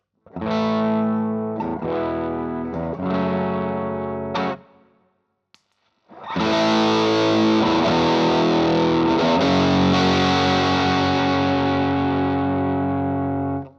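Electric guitar chords through an Earthquaker Devices Dunes overdrive pedal, gain at 12 o'clock, ring out: a short strummed phrase, a brief pause, then a longer sustained crunchy passage, loud and saturated with no talking.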